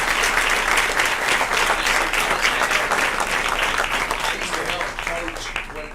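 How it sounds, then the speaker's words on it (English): Steady applause from a crowd at a regular scheduled public meeting, many hands clapping densely and evenly for several seconds before easing slightly at the end. "please give them a round of applause."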